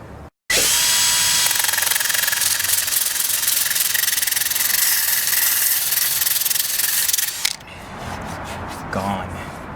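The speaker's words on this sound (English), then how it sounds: "we're going to go down with the sander and just finish the" A power sander grinds rust off the surface of an empty swimming pool, a loud, steady, rough abrasive roar lasting about seven seconds before it cuts off abruptly, leaving quieter handling noises and faint voices.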